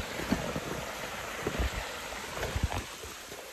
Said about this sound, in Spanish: Ahora se abunda el agua por todos lados.